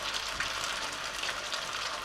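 Potato pancakes fry in a generous layer of oil in a pan, giving a steady, dense sizzle with crackling spatter that stays close and even throughout.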